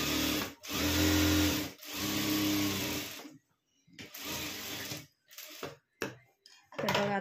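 Sewing machine stitching the inner side of a blouse sleeve, running in close loud bursts of rapid whirring separated by short pauses, with brief quiet gaps between runs.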